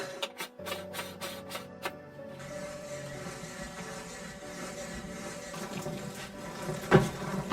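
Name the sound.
mincing meat in a manual meat grinder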